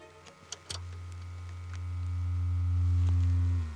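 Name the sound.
signal generator noise through amplifier and loudspeaker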